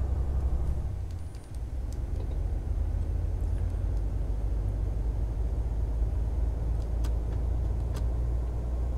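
Mercedes-Benz Actros truck engine in Euro Truck Simulator 2, a steady low droning rumble hauling a 20-tonne load, continuous and fairly loud with a brief dip early on and faint ticks above.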